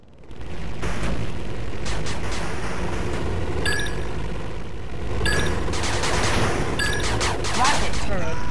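Rapid machine gun fire from the real-time strategy game 8-Bit Armies, with dense overlapping bursts and a few booming hits running continuously, loud and close, while short voice lines are spoken over it.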